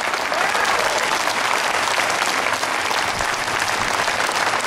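Dense, loud applause from a rally crowd after a performance of a song, an unbroken roar of clapping hands that holds steady throughout.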